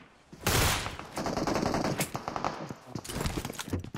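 Rapid video game gunfire rattles off in dense automatic bursts, close and punchy, with a short pause before the shots resume.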